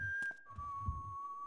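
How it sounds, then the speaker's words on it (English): A single person whistling a sustained, wavering tone in the game Manhunt, fairly faint against low background rumble and footstep-like thumps. "Someone's whistling, but"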